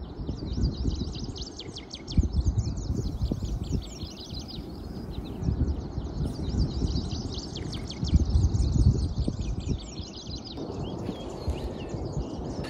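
Many birds calling along Goose Creek Road near Churchill on Hudson Bay in June: rapid, repeated high chirps and trills overlapping almost continuously, over a low, rumbling background of wind or movement.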